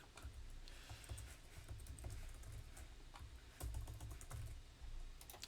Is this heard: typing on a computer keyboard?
yes